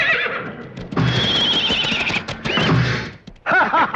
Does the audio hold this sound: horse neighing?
yes